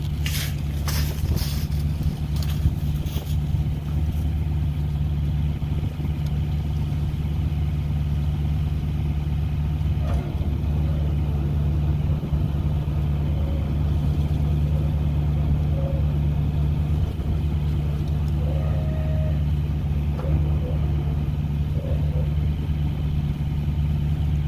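A combine harvester engine idles steadily after a cold start, a loud constant low rumble with a strong hum throughout and a few faint clanks and rattles over it.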